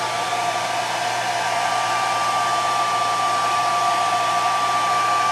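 A hair dryer runs steadily in the background, a constant close whooshing hum with a thin tonal whine, unbroken for the whole stretch with no talking.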